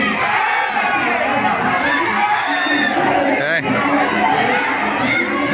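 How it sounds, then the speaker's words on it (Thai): A dense crowd of supporters at a Muay Thai bout, Kompetch Chotbangsaen against Wiew Petchkosol, roars and cheers steadily throughout, a loud continuous wall of shouting and chatter with rising surges and voices mixed in. "กองเชียร์ก็เชียร์ใหญ่เลยนะครับ"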